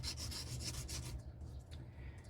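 A metal ring is rolled back and forth on 320 grit sandpaper, producing quiet, close rhythmic rubbing strokes that fade to softer scuffs.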